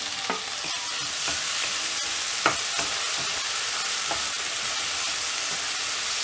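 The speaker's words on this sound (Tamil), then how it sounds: "இதில் உருளைக்கிழங்கு ஆட் பண்ணிவிட்டு நல்லா வதக்கி விட்டுடலாம்" Chopped tomatoes and potatoes sauté in a pan for mushroom gravy, giving a soft, steady sizzle with intermittent scrapes and clinks of a spoon stirring the vegetables.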